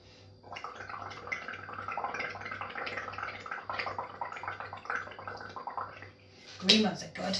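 Air blown through a straw into bubble paint makes a soft, steady bubbling gurgle close by that runs almost throughout and ends in a sharper clatter.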